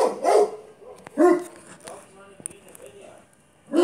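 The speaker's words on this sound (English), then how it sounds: "Usa, can you please stop barking right now?" A dog barks in several loud, close bursts indoors, with whimpery yips between barks.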